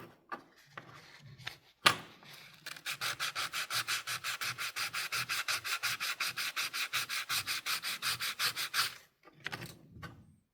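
Fine 800-grit sandpaper rubbed by hand on a custom Swiss Army knife key part, a steady run of rhythmic back-and-forth scratchy strokes, close and fairly quiet, with a few handling knocks before and after.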